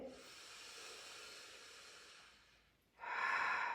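A slow, deep yoga breath is heard up close: a long, soft exhale that fades to near silence, then a sharper, stronger breath rushes in at the end, with no talking.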